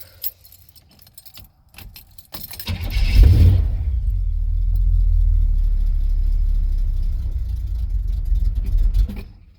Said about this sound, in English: See if we can get it to start here.